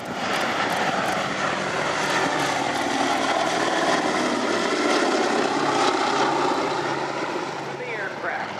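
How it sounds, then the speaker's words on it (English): A B-17 bomber makes its last pass at the Thunder Over Michigan 2012 airshow, a loud, sustained propeller-engine drone that fills the whole stretch and eases slightly toward the end. "Here's the last pass of the B-17."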